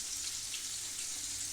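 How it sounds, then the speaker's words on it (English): Water poured into a pot of cornmeal, a soft continuous hiss and splash, faint and steady for a moment. "So you put a little bit more water in."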